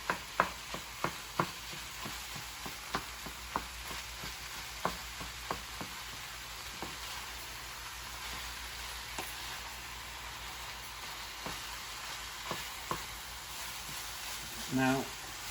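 Cold ground lamb sizzles and crackles in a hot pan, with a steady low frying hiss and scattered sharp pops and scrapes throughout, close and moderately quiet, ending in a brief louder clatter.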